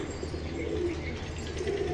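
Pigeons coo faintly amid steady background noise, with light chirps and a hint of fluttering wings, no voices heard.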